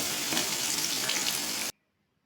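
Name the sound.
small potatoes frying in oil with salt and turmeric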